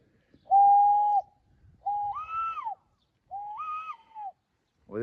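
A boy whistles three sustained notes outdoors, the first flat and the next two rising and falling, with short pauses between them and no talk.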